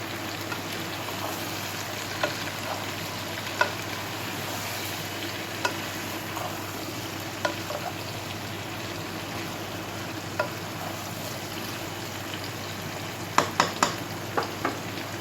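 Ridge gourd stir-fried in a pan for Bengali fish curry, giving a steady loud sizzle with occasional sharp spatula scrapes and taps against the metal.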